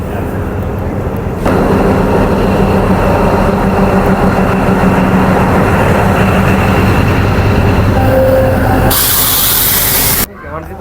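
A small toy-like train with an oil tanker wagon waits at a Sri Lankan hill-country station, giving a long steady hiss and rumble with a brief tonal squeal near the end before the noise cuts off.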